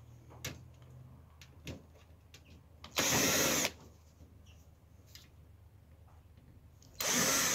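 A power drill removes screws from a television being dismantled for recycling, giving two short loud whirring bursts separated by quiet handling clicks and knocks.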